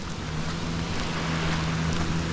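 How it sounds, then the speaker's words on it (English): Heavy rain pours down steadily in a continuous broadband wash, loud and close, with a low hum running underneath and no voices. "Getting a good rain here now."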